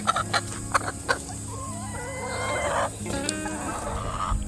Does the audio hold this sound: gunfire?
no